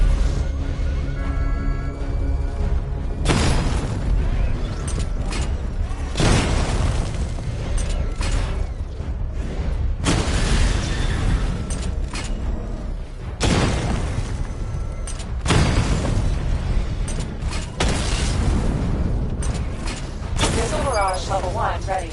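Repeated heavy booms and bursts of missile barrage explosions in a PS4 video game, loud and dense, recurring every few seconds over a continuous game soundtrack, with a synthetic announcer voice speaking in between.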